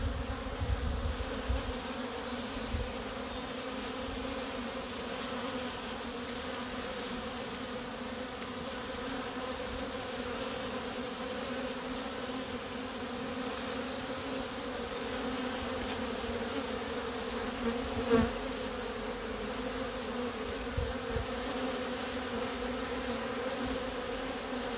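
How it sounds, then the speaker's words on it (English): Honey bees at a hive in Portland, Oregon fill the air with a continuous close, steady buzzing hum, dense and unbroken from start to finish, with a few faint knocks and handling noises. "let you enjoy the sound of the Portland, Oregon bees"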